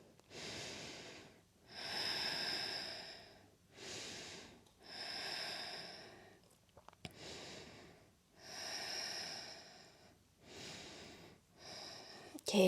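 Slow, deep breathing in a yoga forward fold: about six long, even breath cycles, each a soft airy rush that swells and fades, close and quiet with pauses between.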